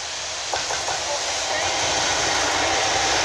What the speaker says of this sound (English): The railhead treatment train.